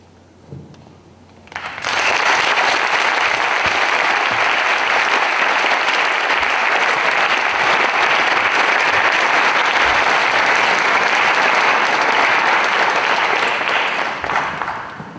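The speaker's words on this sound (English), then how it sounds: "Let's have another round of applause for all of our speakers." Audience applause after a series of speakers, starting faintly then swelling at about two seconds into sustained, dense clapping from a large crowd that holds steady before tapering slightly at the end.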